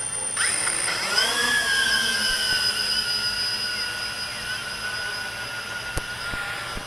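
A Walkera QR X350 Pro quadcopter with a Mini PX4 flight controller hovers close by, its motors spinning up into a steady, even whine that holds for several seconds.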